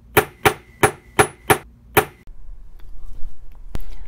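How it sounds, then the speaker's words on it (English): A brass hammer strikes a flat back crystal setter punch on metal six times, sharp, loud, evenly spaced metallic taps, followed by quiet handling noise and a faint click. "give a couple of strong whacks with my brass hammer"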